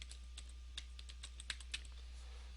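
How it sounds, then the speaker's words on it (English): Typing on a computer keyboard while entering a short caption into a text box, a quiet run of scattered key clicks with a few louder strokes, close and alone with no talk. "I'll type in the caption Chicago"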